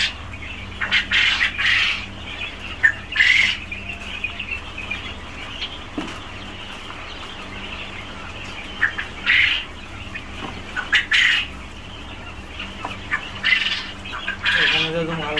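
Pet birds squawk and honk in repeated loud bursts while waiting to be fed, with quieter gaps between the calls and a steady low hum underneath.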